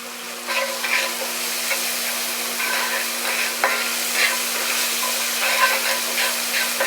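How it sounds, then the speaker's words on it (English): Chopped garlic sizzles steadily in a hot pan, a continuous frying hiss with occasional stirring scrapes, close and fairly loud with no talking. "Pan is already hot. So next I'm gonna add some garlic."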